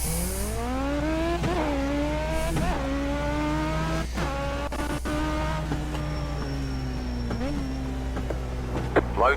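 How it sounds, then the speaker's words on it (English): In the iRacing simulator, a Legend car powered by an 1100cc Kawasaki motorcycle engine howls with a high, buzzing engine note that climbs and drops through repeated revs and gear changes, loud and continuous. "I believe it's a 1100cc Kawasaki motorcycle engine in them"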